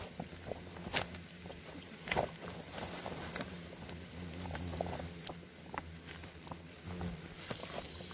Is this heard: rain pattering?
yes